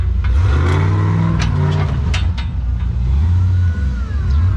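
An LS-powered off-road Jeep TJ with four-wheel steering on Mickey Thompson Baja Pro X tires revs hard at an outdoor memorial weekend gathering, a loud close engine roar rising and surging with spinning tires throughout.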